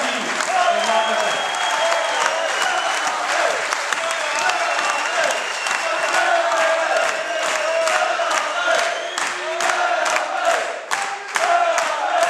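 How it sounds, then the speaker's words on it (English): Applause for the manager at a Clydebank football club awards evening, a roomful of clapping with scattered cheers and whoops, steady and loud throughout, with some voices mixed in. "The round of applause for Budgie McGhie, the manager."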